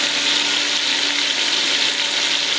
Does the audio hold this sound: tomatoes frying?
yes